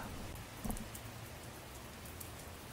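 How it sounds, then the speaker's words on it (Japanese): Steady, faint rain patters as a sound effect in a visual novel game, a soft continuous hiss with no voices. "数秒、雨の音だけがその場を支配する。"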